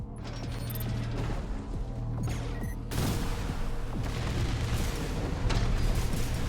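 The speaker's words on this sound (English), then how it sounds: "Yep, cannons." Heavy mechanical clanking and grinding with repeated booming blasts, a steady loud barrage of mech cannon fire layered over machinery noise, in the video game Armored Core 6.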